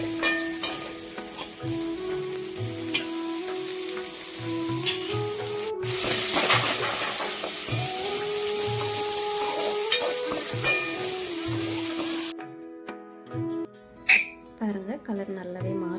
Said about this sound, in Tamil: சாப்பிடும்போது நல்ல கலர் மாறி வர வரைக்கும் அதை வதக்கிடுங்க. நல்லா வதக்கி எடுத்துக்கோங்க.